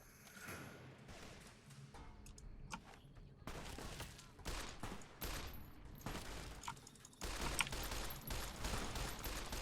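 Rapid bursts of gunfire in the video game Fallout New Vegas, dense volleys and thudding shots crowding together loudly over about ten seconds, with game music and noise beneath and no clear talk.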